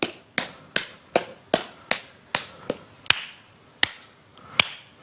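Slow, steady taps and claps, roughly eleven sharp hits spaced about half a second apart, close and dry with quiet gaps between them.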